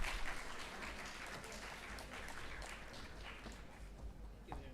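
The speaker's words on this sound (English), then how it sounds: "Big round of applause, everyone." Conference audience applauding, a steady wash of many hands clapping that stays even and moderately distant throughout, no speech over it.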